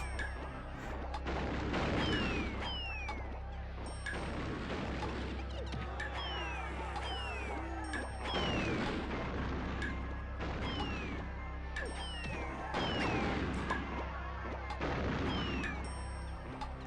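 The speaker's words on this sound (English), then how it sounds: "why are they dropping bombs so much?" Bombs drop in a video game, with repeated booming impacts and crashing blasts that recur every few seconds over a low, constant drone and scattered whistling effects.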